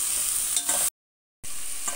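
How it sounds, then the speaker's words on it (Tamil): Vegetables for a mixed-vegetable Tamil sambar stirred as they fry and sizzle in a pan, a steady hissing crackle with scraping stir strokes, cut by a brief silent gap before the frying resumes. "நல்லா கிண்டி"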